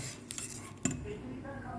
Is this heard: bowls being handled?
yes